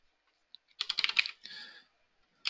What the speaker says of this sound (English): That's just me being bad at typing.